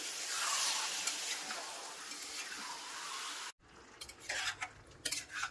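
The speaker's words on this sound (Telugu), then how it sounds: "చికెన్ వేసుకున్నాక చక్కగా అంతా కలిసేలా కలుపుకోవాలండి." Soaked chicken being stirred in a pan for a coriander chicken fry, a steady close sizzle and scrape that cuts off briefly, then returns as lighter stirring with spoon clinks against the pan.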